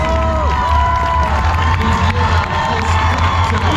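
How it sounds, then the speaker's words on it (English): Spectators cheer runners across the UTMB finish line in Chamonix: a loud, sustained crowd roar with shouts, whoops and children's voices that never lets up. "Finishing this line, people cheer you."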